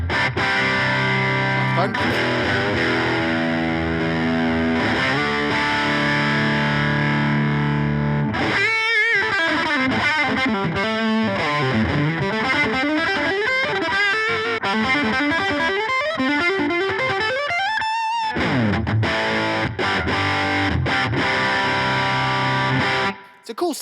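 An electric guitar runs through a Strymon amp-in-a-box pedal into a Deluxe amp, with the gain on the pedal turned down and the amp gain turned up, giving a driven tone. It plays chords, then sweeping bends and slides, loud and close, with a brief spoken word.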